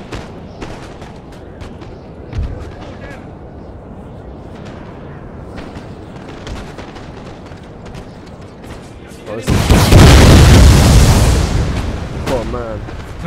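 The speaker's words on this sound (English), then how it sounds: "Your grenades. Oh, they're devastating." Grenade blasts in the Napoleon: Total War battle game, a loud broadband burst near the end following a stretch of scattered distant booms and battle noise, with a man exclaiming briefly over it.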